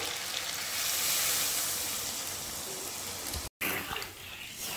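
Chicken curry bubbles in a pot, a dense, steady hiss of boiling and sizzling close up, briefly cut off and then resuming.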